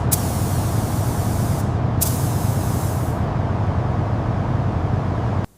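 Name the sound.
paint spray coating a Ferrari body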